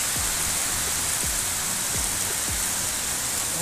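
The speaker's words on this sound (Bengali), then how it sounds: "আহা, এতদিন পর বৃষ্টি পড়ছে।" Light drizzle falls outside an open window, heard as a soft, even wash of rain noise with faint low patters and thuds scattered through it.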